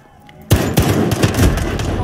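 Pistol gunfire in the Call of Duty Gulag video game: a rapid string of sharp, loud shots, roughly five or six in about a second and a half, cutting in abruptly over a murmur of background noise.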